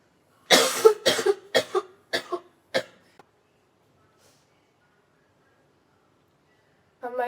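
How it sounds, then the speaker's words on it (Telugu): A person with a lingering cough coughs in a quick run of about six harsh bursts, close and loud, then falls silent before a voice starts at the end. "కాఫ్ తగ్గట్లేదు."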